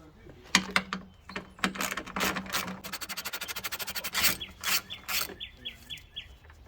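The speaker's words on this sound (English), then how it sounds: "All 3 of these bolts are 10mm, so let's get them removed." Ratchet work on the 10mm headlight bolts of a Ford F-150, with scraping and a fast, even run of ratchet clicks in the middle, close by, and some brief sounds of handling around it.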